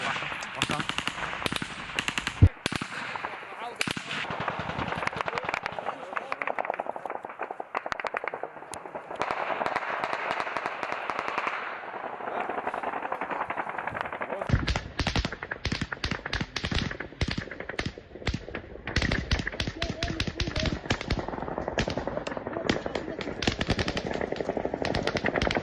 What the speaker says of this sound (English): out of all this gunfire we're hearing in the video